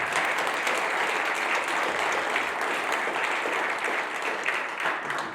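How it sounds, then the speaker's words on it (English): A large audience at a college hip hop literacy lab talk gives a sustained, dense round of applause, steady and loud throughout, with a faint murmur of voices beneath. "let's give him another round of applause"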